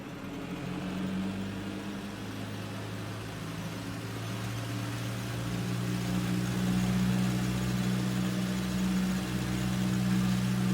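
A simulated Cessna C172 engine run-up in the A2A flight simulator hums as a steady piston drone with a prominent low tone, rising slightly in pitch and level partway through, heard alone without talk.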